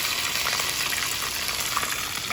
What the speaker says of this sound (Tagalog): Iprito na. Unang prito.